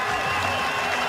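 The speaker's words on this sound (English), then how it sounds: "His teammates stand to applaud him." Teammates and the crowd applaud a batsman reaching his first ODI century at a cricket match, a steady, dense wash of clapping that runs the whole moment without a break.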